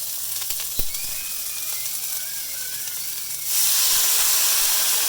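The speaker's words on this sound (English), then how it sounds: "Just to steam these vegetables up just a little bit." A sharp sizzle and loud steady hiss erupt as a little water hits a hot pan of stir-fry vegetables, following a quieter stretch of faint clicking and kitchen noise.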